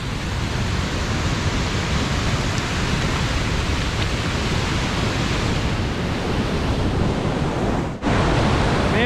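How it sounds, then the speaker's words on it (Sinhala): A stream of water rushing toward Bomuru waterfall makes a loud, unbroken roar close by, a dense wash of rushing water that holds steady throughout with one brief dip near the end. "සුන්දර බෝමුරු ඇල්ලට යන වතුර පාර."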